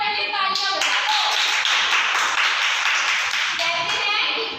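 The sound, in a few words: classroom applause for Poonam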